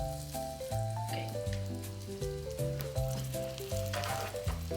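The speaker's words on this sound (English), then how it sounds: "Add our meat to the pan, but we're gonna sear the fat side first." A steak searing fat side first in a hot pan, a steady loud crackling sizzle running throughout beneath prominent background music.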